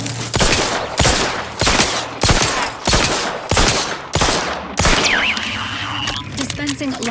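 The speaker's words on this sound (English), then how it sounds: "Who's shooting me?" Gunfire in The Outer Worlds 2, a run of about seven loud sharp bursts at a steady rhythm, followed by a softer electronic tone and clatter.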